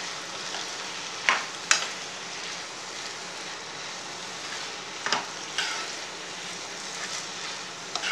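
Chilli chapathi pieces fry in gravy in a pan under a continuous soft sizzle, broken by a few sharp scrapes and clacks of a stirring spoon at uneven intervals, with no voices.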